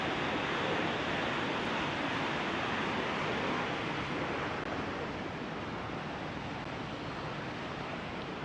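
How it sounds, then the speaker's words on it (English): A waterfall fountain near the Keio Plaza hotel in Shinjuku, Tokyo, sends up a dense, steady roar of falling water, loud and close, unbroken across the whole stretch with no voices. "You can hear a waterfall fountain around."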